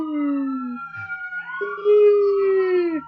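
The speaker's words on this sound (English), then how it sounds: "Got an ambulance going by here." An ambulance siren wails in long rising and falling tones as it passes nearby, loud and clear with no talking over it.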